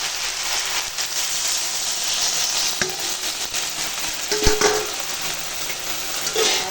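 Water poured into a hot pan of cauliflower and vegetables cooking with badi, a steady loud sizzle and hiss with a few spoon knocks against the pan.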